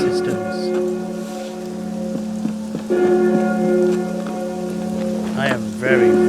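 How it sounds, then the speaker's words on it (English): Steady rain patter in the video game Assassin's Creed Unity, with a sustained musical drone underneath and a few soft tonal blips, continuous and fairly loud throughout. "It's raining. Yay!"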